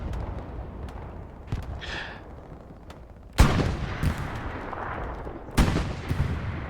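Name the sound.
tank firing in a video game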